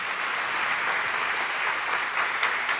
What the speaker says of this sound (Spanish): Give him a strong round of applause?